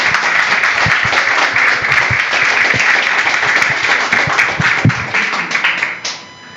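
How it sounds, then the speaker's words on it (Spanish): An audience at a talk on Patagonian political history breaks into dense, sustained applause that holds steady for about six seconds, then quickly tapers off to silence. "¿Un aplauso?"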